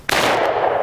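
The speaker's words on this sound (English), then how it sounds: "I'm going to shoot the flamingo on the bottom again." A Remington 870 Express 12 gauge pump shotgun fires one loud, close blast at a flamingo target, followed by a short rumbling echo.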